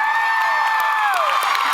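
Concert audience applause and cheering at a show in a theater, a dense steady wash of clapping and whoops at full loudness throughout, with a sustained whistle-like tone running across it.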